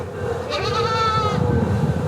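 A single goat bleats once in a wavering, drawn-out call lasting about a second, close and fairly loud over steady background noise; the animal is a pregnant doe bought after a long journey and in poor health.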